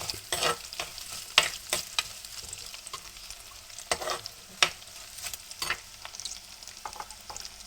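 Green chillies split in half frying in a pan, a soft crackling sizzle with irregular scraping stirs and taps, close and fairly quiet, no one speaking.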